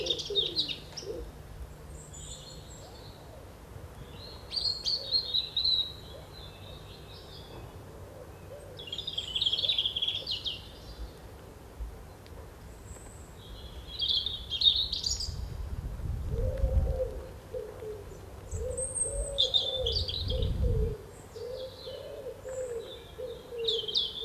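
A European robin sings short, high, wistful phrases outdoors, repeated in bursts separated by pauses. A dove coos softly and lower in the background partway through.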